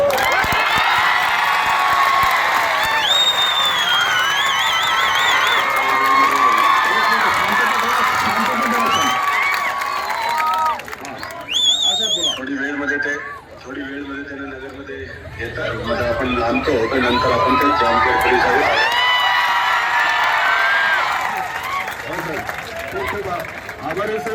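Students break into loud, excited cheering and shouting as a crowd, a dense mix of many voices with overlapping talk and chatter throughout and a brief lull near the middle.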